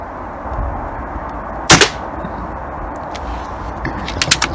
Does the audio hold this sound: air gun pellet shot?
yes